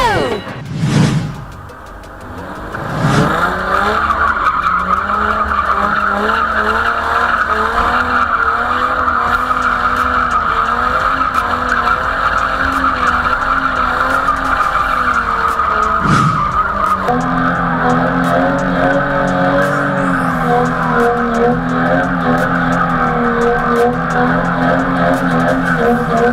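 A Toyota Mark 2 with a 2JZ engine and a KE70 Corolla with a 3SGTE engine do donuts, tires skidding and squealing loudly and continuously over roaring, revving engines, with brief shouts at the start.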